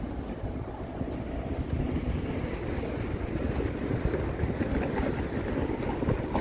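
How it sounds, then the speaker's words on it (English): Steady wind roars across a microphone between downtown Toronto condo towers, a broad continuous rushing noise with gusty swells and no voices. "It's quite windy now, just because of this condo canyon."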